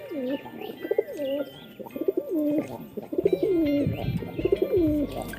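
Domestic pigeons cooing close by, a run of repeated throaty rolling coos in rhythmic bursts, with several birds overlapping and no talk.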